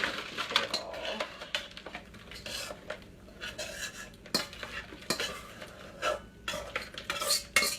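A spoon scrapes and stirs homemade cornbread stuffing into an aluminum pan, giving close, irregular scraping, rubbing and clinking bursts with short pauses and no talk.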